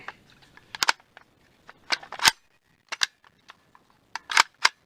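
Mechanical clacks from a Romanian RAK-22 .22LR rifle, a bolt snapping back and locking open after the last round, among a scatter of sharp metallic clicks and handling noises, close and fairly loud with pauses between them.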